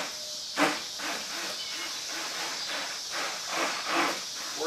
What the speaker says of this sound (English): you put the stick blender in at an angle so there's no air bubbles, and you just press it